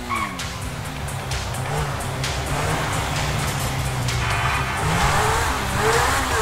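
A car roars up with tires squealing and skidding, loud and close over a steady engine rumble, while low voices and a faint dog bark sit in the background.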